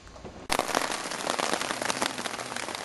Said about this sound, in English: Hey, Mark, is that hail coming down